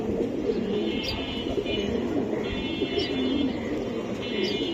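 A silver Giribaz racing pigeon coos in soft repeated low phrases, close by, over steady background noise at a pigeon seller's place, with faint higher chirps recurring through the clip.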